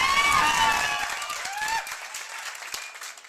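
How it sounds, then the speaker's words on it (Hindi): Crowd at a motivational event in Haryana applauding, with cheering voices over dense clapping that is loud at first, then thins out into scattered claps. "तो एक बार जोरदार ताली अभिषेक सर के लिए।"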